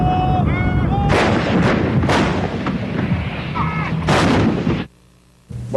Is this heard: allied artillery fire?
yes